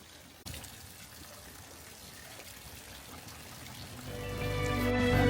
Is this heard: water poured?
yes